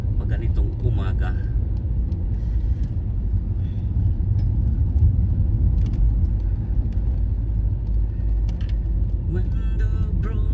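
Morning city-centre traffic in Manchester, with a continuous low rumble of passing cars and other vehicles. Someone talks over it at times, and a few scattered sharper sounds come up now and then.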